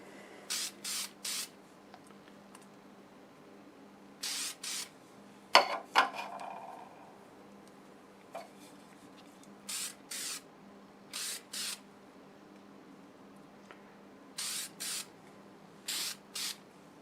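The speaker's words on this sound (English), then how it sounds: "I'm ready to spray the lacquer on." Lacquer sprayed onto a wood-turned piece from an aerosol can, a series of short hissing bursts, some in quick pairs, separated by quiet gaps, with a clatter of handling partway through.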